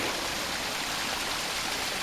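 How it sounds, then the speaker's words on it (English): Steady rushing of creek water flowing continuously, a broad even wash of sound with no other noises. "All with the sound of the creek"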